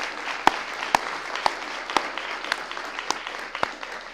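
Audience applause and cheering at a university talk on foreign correspondence, a steady broadband patter of clapping with sharp periodic claps standing out, moderately loud and continuous throughout with no voices.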